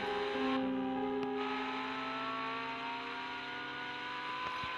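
A car engine in a video game hums steadily with sustained whining tones, holding an even, moderately loud drone with no voices.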